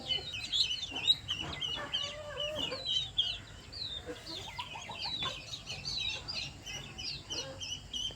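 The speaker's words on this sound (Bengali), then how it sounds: "এখন মুরগিগুলো ওইগুলো খুঁটে খুঁটে খাচ্ছে" Several chickens cluck and murmur softly nearby while pecking at food, in a steady, overlapping chatter, with faint scratching and pecking sounds beneath.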